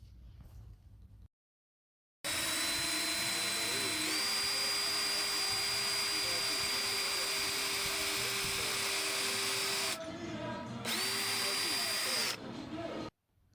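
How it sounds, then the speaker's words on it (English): A power drill bores holes into the sides of a log bird feeder, a loud steady whine that runs for several seconds, stops briefly, then spins up again for a shorter burst. "This is the bit that I'm going to be using to drill the 2 holes in both sides of the feeder"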